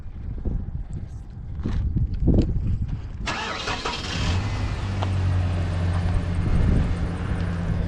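A car engine cranks and catches, then settles into a steady idle hum, heard close after a few seconds of muffled movement and quiet background noise.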